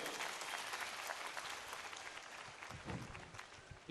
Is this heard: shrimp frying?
no